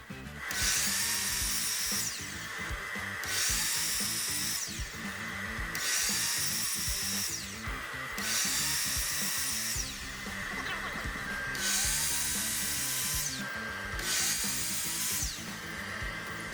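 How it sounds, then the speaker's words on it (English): A miter saw cuts cedar boards for a planter box: a steady, high whining power-tool roar that swells in regular pulses about every two seconds, loud and continuous throughout. "we can take these over to our miter saw and make our cuts from that marked corner all the way to our exterior corner"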